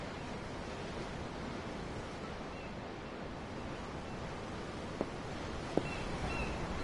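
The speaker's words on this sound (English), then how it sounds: "The ocean? Yeah. The waves. They help me think." Ocean waves wash against a ship at sea in the game Tales of Arise, a steady soft surf hiss with faint wind and two brief small knocks near the end.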